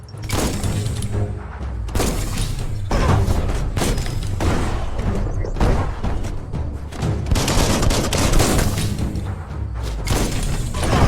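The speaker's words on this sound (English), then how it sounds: "That's a bomb lobber" Repeated heavy explosions from a bomb lobber in the game Biomutant, booming blasts that come in rapid, overlapping bursts and stay loud and continuous throughout with no talk.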